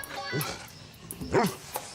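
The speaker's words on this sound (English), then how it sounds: "he will lay down next to the scent, and he will bark." A human-remains detection dog gives a couple of short, close barks and yips, with brief whimpering sounds between them.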